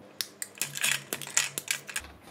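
Homemade butterscotch candy being crushed in a plastic bag, a rapid series of sharp cracks and clicks, close and fairly quiet, with no voices.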